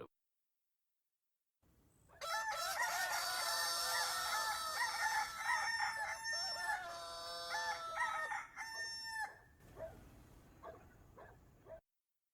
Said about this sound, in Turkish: Horozlar ötüyordu.